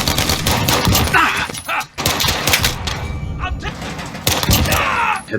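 Pistol gunfire in a Call of Duty match, with rapid, loud repeated shots cracking in bursts and short pauses between them, under a player talking.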